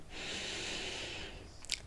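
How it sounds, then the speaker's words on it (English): A slow, deep inhalation and release of breath during a guided relaxation exercise, a steady airy hiss lasting most of the moment, close and soft, ending with a brief sharper puff. "deep inhalation and releasing out"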